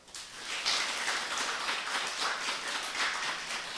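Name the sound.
congregation clapping in blessing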